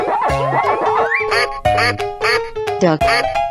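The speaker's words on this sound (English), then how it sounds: "Duck." A cartoon duck quacks loudly in a lively, repeated series of nasal, squawky calls, with bright cartoon sound effects and voices mixed around them.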